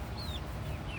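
Chickens clucking on a hot day while moving between shady spots, soft scattered clucks and a few thin chirps over a steady low background hum, moderately distant and never loud.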